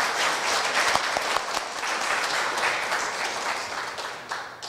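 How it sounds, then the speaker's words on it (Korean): A university audience claps to welcome a guest professor to the stage, a dense, sustained round of applause from a large crowd, loud and even, tapering slightly at the end, with no speech. "다 같이 박수로 환영해 주시면 좋겠습니다."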